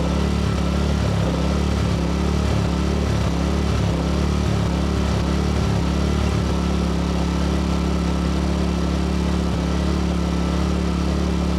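A portable generator runs steadily at a constant engine drone, loud and close, with a low rhythmic thrum and no pauses throughout.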